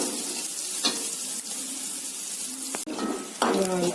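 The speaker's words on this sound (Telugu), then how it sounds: "ఉల్లిపాయ తీసుకొని ఈ తాలింపులో వేసుకొని లైట్ బ్రౌన్ కలర్లో వచ్చేదాకా కొంచెం వేయించుకుంటే" Onions sizzle steadily in hot oil, a continuous crackling hiss with occasional stirring scrapes.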